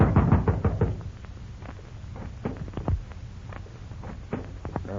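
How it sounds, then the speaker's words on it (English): Several sharp knocks on a wooden door in an old-time radio police drama, clustered at the start with a few more scattered raps later, fairly close and clear over a quiet background. "Knock on the door."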